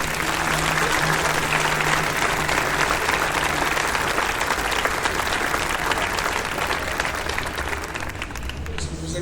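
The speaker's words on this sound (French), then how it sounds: "Nous la regardons et nous applaudissons Carlo." Audience in a church applauding for Carlo Acutis, a dense, steady wash of many hands clapping that holds for several seconds before thinning slightly at the end, with some voices mixed into the crowd.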